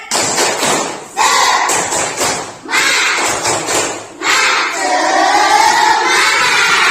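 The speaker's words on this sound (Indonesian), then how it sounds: "Oke, tepuk semangat." A classroom of students performs a rhythmic spirit clap (tepuk semangat), loud bursts of patterned clapping mixed with shouting and chanting voices, broken by short pauses.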